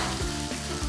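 Egg frying in melted margarine in a pan for sardines sisig, a brief, steady close sizzle with faint stirring.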